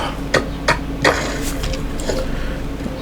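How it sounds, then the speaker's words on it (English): In the Satisfactory video game, a tool chisels a rock protrusion with three sharp, evenly spaced strikes, followed by a softer mechanical rattle. Steady, loud game ambience sounds underneath. "the first thing we do is chisel off this kind of protrusion on the top"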